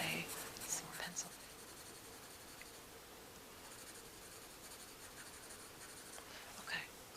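Colored pencil shading on paper, soft continuous scratchy strokes, close and quiet, with faint whispered talk over it.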